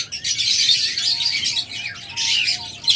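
A pair of rainbow lovebirds chatter close by in rapid, high-pitched chirps and tweets that run almost without pause, with no one speaking.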